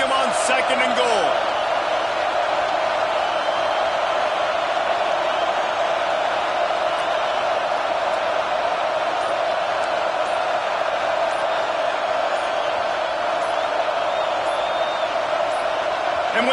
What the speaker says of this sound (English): These fans raising the volume on second and goal.